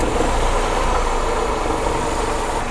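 A sixth-generation Honda Accord engine running in a garage after a no-start repair, a steady low idle hum with even, unbroken rumble and no talk.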